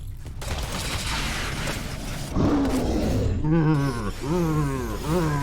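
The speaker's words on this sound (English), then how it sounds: "Just hearing them roaring." Monsters roar in the video game Protos Magos, a series of loud, rising and falling growls that repeat several times in the second half of the clip over a dense, noisy game background.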